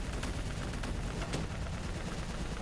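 Gunfire in Call of Duty: Black Ops 3, a continuous wash of dense battle noise with sharp shots popping through it, loud and steady, without speech.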